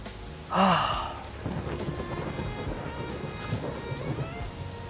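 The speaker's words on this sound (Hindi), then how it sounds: "मैंने हमेशा बारिश को देखा था, लेकिन आज महसूस किया है।" Steady rain pattering densely on a surface, preceded by a brief loud burst of sound at the start.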